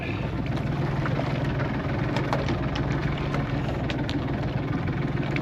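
Constant outboard boat engine and propeller drone runs steadily throughout on open water while fishing, a steady mid-level hum with faint clicks and splashes layered on top.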